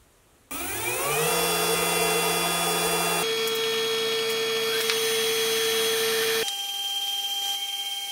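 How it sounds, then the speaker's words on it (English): A high-quality grinding wheel with coolant giving a lathe collet chuck its final grind: a motor spins up, then a steady, loud whining hum that shifts tone twice, with no talking. "give it a final grind using a much better quality grinding wheel"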